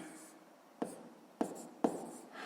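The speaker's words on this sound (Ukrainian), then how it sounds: "Давайте запишемо поділити на 4 перших" Pen writing on paper while working a sixth-grade maths exercise: three short, distinct scratching strokes spaced about half a second apart over a quiet hiss, with no talk.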